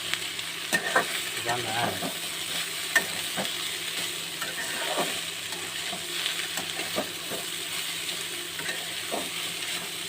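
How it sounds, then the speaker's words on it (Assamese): Onions fry in a pan with a continuous close sizzle, punctuated by scraping stirs of a utensil against the metal; a voice speaks briefly. "পিঁয়াজ পুৰিয়ে গ'ল নেকি?"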